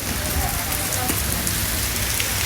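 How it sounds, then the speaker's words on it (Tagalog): Steady rain falls on a surface nearby, a dense, continuous patter with no breaks, loud and close, and no clear voices over it. "Tuwang-tuwa nakakita ng ulan."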